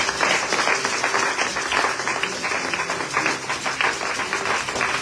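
A church congregation breaking into sustained applause, a dense, loud wash of many hands clapping continuously from near and far, with no talk on top.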